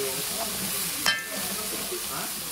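Ingredients for a cassoulet sizzle and hiss as they fry in a pot while being stirred, a steady close crackle with one brief sharper scrape.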